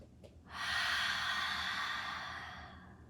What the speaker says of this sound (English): Releasing any exhales you might need to out through the mouth